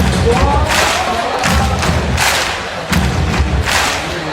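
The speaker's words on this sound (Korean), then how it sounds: "여러분 박수" Studio audience applause and cheering at the opening of a Korean talk show, loud, dense and continuous, with a few heavy thumps and a surge near the end.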